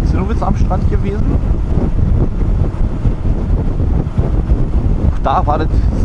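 Strong wind buffets the microphone on a Baltic Sea beach at Zinnowitz, a constant low roar with waves behind it, and brief voices break through now and then.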